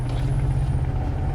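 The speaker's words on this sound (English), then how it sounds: "we can just listen to this engine noise a little bit easier" Scania 730S truck with a V8 engine in Euro Truck Simulator 2, a steady, loud low rumble droning on without pause, heard close from the cab with the windows partly down and no talk.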